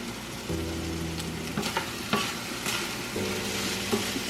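Grits cook in a pot on the stove, thick and bubbling, with soft popping and spitting bursts and a low simmering hum, heard up close with no talking.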